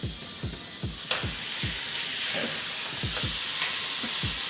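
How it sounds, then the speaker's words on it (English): A buttered chicken breast sears in a skillet over medium-high heat, crackling and hissing loudly and evenly at close range, while a recurring chirping sound repeats in the background. "with your chicken breast that we done buttered up, go ahead, lay this down in your skillet"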